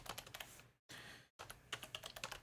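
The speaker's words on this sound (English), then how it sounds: "Tappity typing." Rapid, uneven key taps on a computer keyboard, close and fairly quiet, with a brief gap in the middle and no talking.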